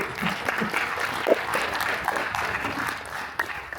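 An audience at a veterans resource fair applauds steadily for several seconds, a dense wash of clapping from a crowd with a few louder individual claps standing out.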